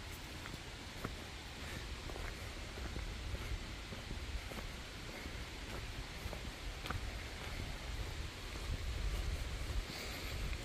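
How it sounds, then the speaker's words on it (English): Waterfall at McConnells Mill State Park in Portersville, Pennsylvania: a steady, broad rush of falling water heard from a bridge above, constant and fairly distant, with faint rustling and footsteps mixed in. "I can hear what sounds like a waterfall."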